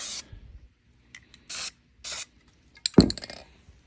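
Aerosol spray paint hisses onto a rifle in three short, close bursts with pauses between them. A light metallic clatter and scrape follows.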